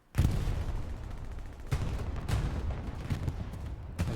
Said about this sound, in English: There's explosions going off all over the place.